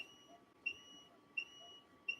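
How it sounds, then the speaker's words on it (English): A DTF printer signals a finished job with three short, high electronic beeps spaced evenly apart over a faint steady hum, heard fairly quietly and without talk. "Now you hear that beep?"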